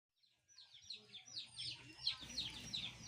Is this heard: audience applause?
no